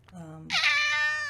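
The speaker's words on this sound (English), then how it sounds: "That's my cat." A house cat lets out a loud, drawn-out meow up close, starting about halfway through and holding to the end, after a brief quieter vocal sound.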